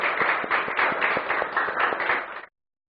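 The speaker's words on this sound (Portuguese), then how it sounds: "Dê para Jesus uma forte salva de palmas." A church congregation claps for Jesus in loud, fairly rhythmic applause with distinct individual hand claps, sustained for a couple of seconds before stopping abruptly.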